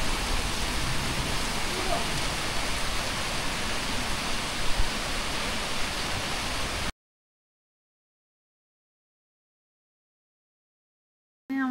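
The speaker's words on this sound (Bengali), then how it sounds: "খালি বৃষ্টি হচ্ছে দেখো খালি তোমরা" Steady rain hisses loudly and evenly at a forest stop in Kankrajhore for several seconds, then cuts to silence before a brief burst of a voice at the very end.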